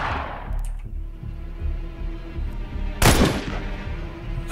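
Soldiers firing weapons in the Xenonauts 2 video game, with a low rumble of shots running through and a sharp, louder burst of gunfire around the three-second mark.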